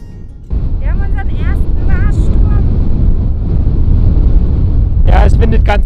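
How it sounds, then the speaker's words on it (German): Steady wind blowing across open desert terrain in Utah, rumbling constantly against the microphone at close range, with someone talking over it. "es windet ganz dezent"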